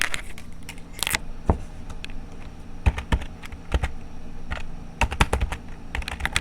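Rapid, uneven clacking of keys on a Fantech budget gaming keyboard, struck up close in bursts with brief pauses, crisp and fairly loud with no voices.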